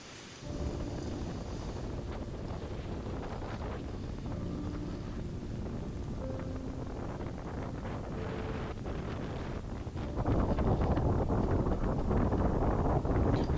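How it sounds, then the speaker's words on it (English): Strong wind buffets the microphone aboard a boat on choppy ocean water after a hurricane, a steady broadband roar with low rumble that swells louder for the last few seconds. "Wow, look how choppy the ocean is."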